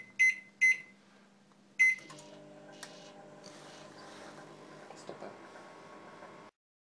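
A few short beeps as a microwave oven is set, then its steady low hum as it runs, cooking chicken legs in a pot, with faint ticks over the drone.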